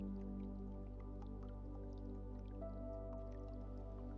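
Water drops dripping, faint and scattered, over a steady, sustained tonal drone in a calm meditative setting.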